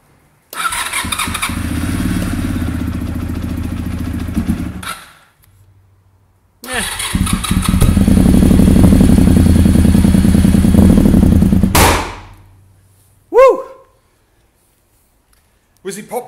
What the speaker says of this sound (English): Oh, that was nearly normal Honda noises.